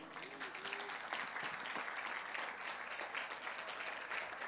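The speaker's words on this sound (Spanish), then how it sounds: "¿Qué tal si le das un aplauso al Señor?" Congregation at a Spanish-language church worship service gives a sustained round of applause, dense clapping filling the room steadily throughout.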